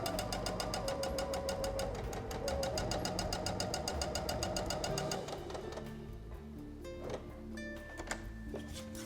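A sewing machine back-stitching jersey knit fabric for a vest runs in a fast, even rapid stitching rhythm for about five seconds, then stops and leaves quieter handling and fabric noises.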